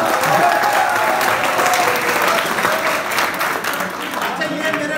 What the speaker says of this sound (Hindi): एक बार ताली फिर बजाओ।